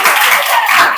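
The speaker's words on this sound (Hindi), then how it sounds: "3 ताली" Hand claps in a classroom setting, a short run of claps filling about a second, fairly loud and close, with no talking over them.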